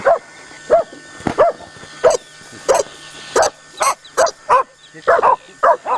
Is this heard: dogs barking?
yes